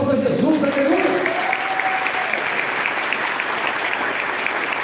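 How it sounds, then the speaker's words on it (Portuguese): A congregation at a church service breaks into steady applause for Jesus, loud and continuous, with a voice briefly heard over the start. "um forte aplauso a Jesus"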